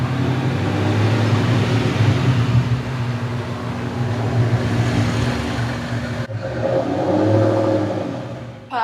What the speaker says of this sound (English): Why do you need a car that's so loud?